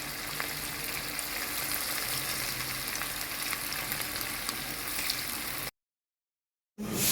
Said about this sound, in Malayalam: ഇനി ബാക്കി ഇതുപോലെ ഫ്രൈ ചെയ്തെടുക്കാം.